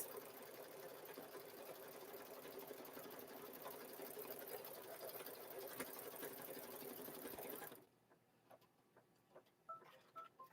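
An embroidery machine stitches a zipper bag held in its hoop, running a steady, fast mechanical whir of needle strokes for nearly eight seconds before stopping abruptly, leaving faint scattered clicks and small handling noises.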